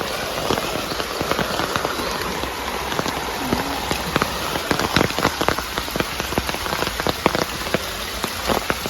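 Steady rain patters on a surface nearby, with scattered sharper drips and splashes over a constant wet hiss.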